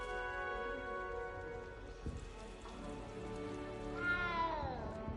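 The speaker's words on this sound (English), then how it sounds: "That cat sounds like it's in pain." A cat meows in the video game Hogwarts Legacy, drawn-out strained cries over a soft patter of rain, with a rising wail near the end.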